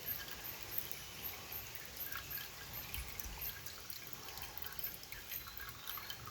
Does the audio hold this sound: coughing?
no